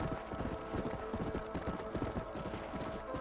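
Horse hooves clip-clop in a steady, busy rhythm through the full stretch in Red Dead Redemption, close and fairly loud, with faint game sound beneath.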